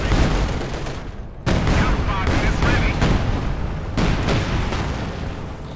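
Artillery barrage in Company of Heroes 2, a dense rolling volley of booms and crackling blasts at steady intensity, with a voice talking over the gunfire.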